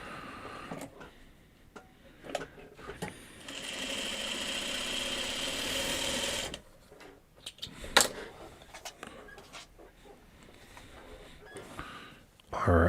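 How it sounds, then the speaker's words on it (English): Sewing machine stitching Christmas fabric into a four-patch quilt block, a steady mechanical run of about three seconds mid-clip, with clicks, handling and brief speech around it. "let's sew these together for a second."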